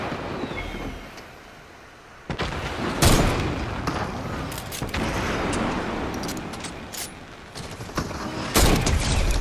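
Gunfire in a Fortnite trios match: a run of sharp, loud shots and booming blasts in separate bursts over a busy game background.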